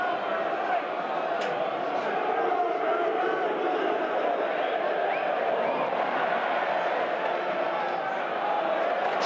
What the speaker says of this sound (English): Only being encouraged forward by this Turf Moor crowd.